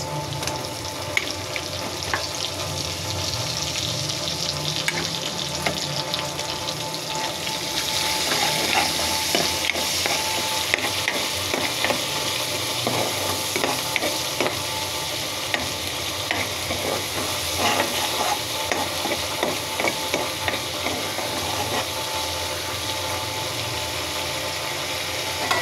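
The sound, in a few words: ginger garlic onion paste frying and being stirred with shrimp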